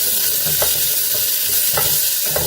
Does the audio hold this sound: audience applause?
no